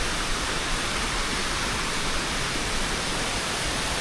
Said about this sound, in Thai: น้ำตกเดี๋ยววอเตอร์ฟอลตัวนี้นะ